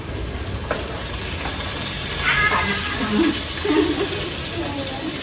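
Chopped onion frying in hot oil in a home kitchen, giving a dense, continuous sizzle at close range. A few faint voice-like sounds sit in the background.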